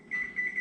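A kitchen timer being set for baking muffins beeps in a steady high electronic tone, two or three close, fairly loud pulses with no talking.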